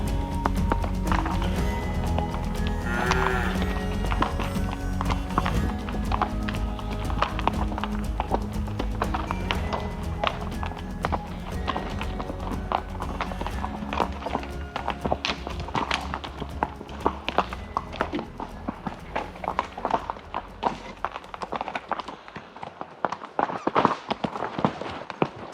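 Hooves of a cold-backed horse clip-clopping steadily while ridden on a mountain trail, a close, rhythmic patter of uneven strikes that continues throughout and grows sparser and more distinct toward the end.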